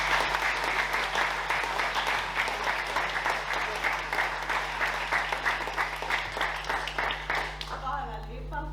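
Steady applause from an audience at an award ceremony for the director of the Ljubljana City Library, sustained clapping that fades at the end as a voice begins speaking.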